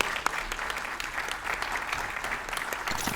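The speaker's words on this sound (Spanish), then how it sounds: "Así podemos recibir un aplauso acá" An audience applauds steadily to welcome Carlos Carrillo at a book presentation, dense clapping holding at an even level for the whole stretch.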